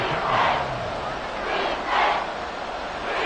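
Swelling crowd roar from a Madden 24 football video game, a broad steady wash of stadium noise that rises in waves over a few seconds.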